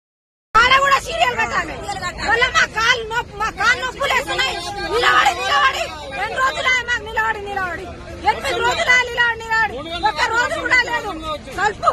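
Farmers protesting on a road in Chegunta, Medak district, over a shortage of urea fertilizer form a loud, dense babble of many overlapping voices, with faint traffic noise underneath.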